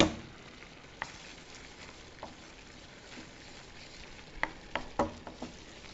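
Flour fries in a pan for Hungarian stuffed sauerkraut, giving a low, steady sizzle under sparse scraping and tapping clatters from stirring, which grow busier toward the end, with no voices.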